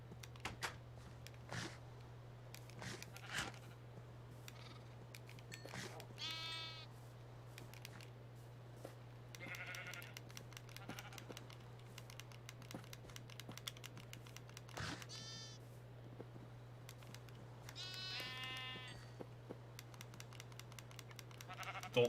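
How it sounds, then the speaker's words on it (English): Sheep in Minecraft bleat in short wavering bursts, several calls scattered over the span, against a quiet steady hum and faint clicking from gameplay. "I'm breeding sheep."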